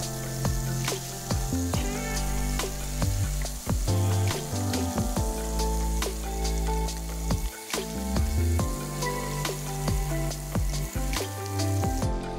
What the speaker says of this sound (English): These bad boys pop a little bit when frying in oil